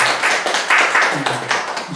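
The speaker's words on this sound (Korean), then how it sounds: "박수 부탁드립니다." Audience applause at a human rights and peace forum honouring a migrant labour union leader who won a labour rights award; dense, steady clapping fills the full two seconds at moderate volume, with faint voices underneath.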